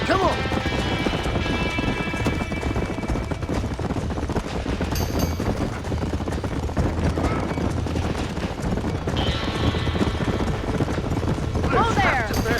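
Horses clatter and whinny in Red Dead Redemption as a barn burns, hooves and commotion steady and loud throughout, with shouting and bursts of action layered over a dense, busy background.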